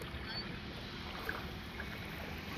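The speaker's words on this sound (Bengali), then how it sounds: "ওই নৌকাটা যেহেতু আসছে, তাই ঢেউটা দিচ্ছে।" Waves from a passing boat wash along the Damodar river as heard from aboard a boat, a steady broadband rush of water with wind noise, fairly faint and continuous throughout.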